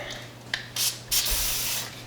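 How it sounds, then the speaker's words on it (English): Two short bursts of WD-40 aerosol spray hiss, close by, separated by a brief pause, with light rubbing and handling noises around them. "I don't know if I should spray it on here"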